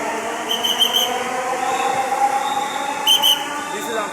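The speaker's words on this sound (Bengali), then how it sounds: "ট্রেনটা চলে গেল।" A metro train pulls away from a crowded station platform, a steady rumbling roar with brief high squeals and whistle-like tones, continuous and fairly close.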